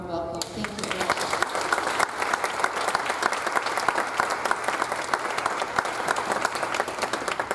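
Sustained audience applause, many hands clapping steadily from start to finish, fairly close and even in loudness.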